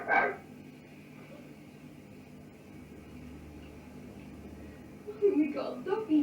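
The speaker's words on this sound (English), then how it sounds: "The barking here is quite extraordinary" Barking on an old Enfield poltergeist tape recording, a short bark at the start and a cluster of barks near the end over steady tape hiss, fairly close and moderately loud.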